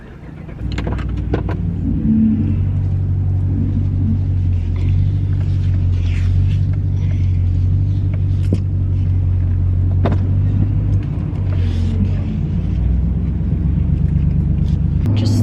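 A car drives along a road with a steady, loud low engine rumble and road noise throughout, a few faint rattles and clicks from inside the cabin, and no talking.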